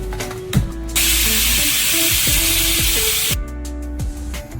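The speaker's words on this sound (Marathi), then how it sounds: "3 शिट्ट्या करून शिजवून घेऊ" A pressure cooker cooking soaked rice lets out one loud, sustained whistle-hiss of escaping steam lasting a few seconds, with sharp clicks and rattles in the kitchen before and after it.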